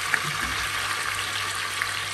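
Chicken frying in a kadhai in a mix of butter and oil gives a steady, even sizzle with a soft hiss, close and constant, with a couple of faint spoon clinks and no talking.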